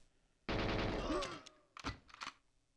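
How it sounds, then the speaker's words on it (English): Gunfire in the old shooter Goldeneye 007: a loud, sustained burst of automatic fire followed by a few sharp separate shots, close and clear. "Who's shooting at me now?"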